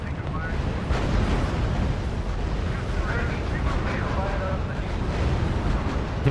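Battle explosions and artillery fire in the strategy video game R.U.S.E., a dense continuous rumble of blasts and booms heard loud and close throughout.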